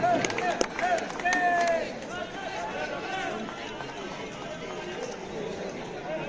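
An audience at the Inter IIT Sports Meet 2025 closing ceremony in Hyderabad claps, loudest at first and then fading into softer, scattered clapping. Crowd chatter and a voice run underneath.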